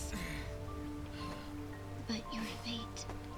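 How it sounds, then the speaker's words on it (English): Steady rain falls in the video game Sonic Frontiers, a soft continuous hiss under low game music, with faint voice-like sounds briefly rising near the end. "It's even raining too."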